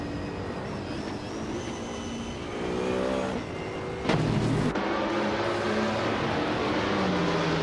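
Race car engines roar steadily at the start of a race in a racing video game, led by a Peugeot 908, with sustained droning and shifting engine pitches and a brief sharp rise in loudness midway.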